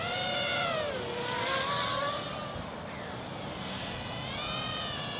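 Furibee racing drone flying nearby: a thin, high whine from the propellers that swoops up and down in pitch as it moves past, fairly faint and continuous.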